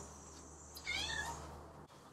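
A house cat gives one drawn-out, wavering meow at mid distance over a steady low background hum, followed by a brief thump.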